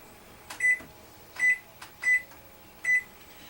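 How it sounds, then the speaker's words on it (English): Microwave oven timer being set for an hour, with four short electronic beeps spaced about half a second to a second apart, clear and close over a quiet room hum. "I use my microwave timer so I don't forget it"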